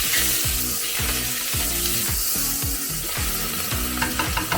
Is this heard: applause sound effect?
no